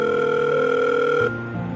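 A telephone call is placed and a steady ringback tone sounds for over a second, clear and close, then shifts to a lower pitch; no talk over it.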